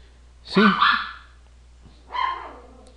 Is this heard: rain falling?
no